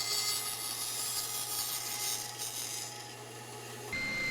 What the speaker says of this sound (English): I take the pieces over to the bandsaw, removing the waste